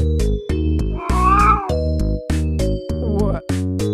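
A cat meows repeatedly in loud, harmonic cries, several short calls and one longer drawn-out wail, close to the microphone.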